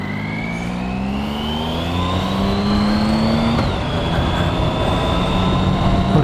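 Triumph Sprint ST 1050 motorcycle ridden after a clutch plate replacement, its engine rising in pitch as it accelerates, then dropping sharply at a gear change before pulling again, loud and continuous with wind noise.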